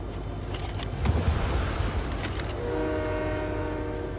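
A train horn in the Fortnite video game, heard as steady sustained horn tones toward the end, over rumbling game rail and vehicle noise with a louder burst partway through.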